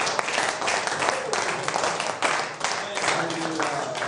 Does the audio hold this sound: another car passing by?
no